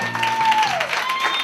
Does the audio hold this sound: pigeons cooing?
no